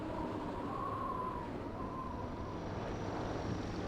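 Drone approaching in the video game Voices of the Void, a steady droning hum over constant broadband rumble that stays even and moderately loud throughout, with no talk.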